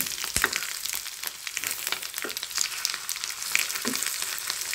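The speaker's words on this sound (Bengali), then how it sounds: "ডিমটা ভাজা দিলে একটু ফোটে, একটু সাবধানে ভাজতে হয় দূরে থেকে" An egg fries in oil in a pan with a little turmeric, giving a steady close crackling sizzle with scattered sharp pops and spits, no voices present.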